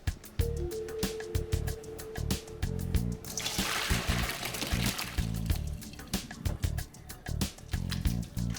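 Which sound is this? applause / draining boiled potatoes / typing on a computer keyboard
draining boiled potatoes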